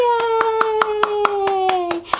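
Hands clap in a steady, evenly spaced beat, about ten sharp claps close by, while a voice sings or hums a sliding tone along with a children's read-aloud about a teddy bear.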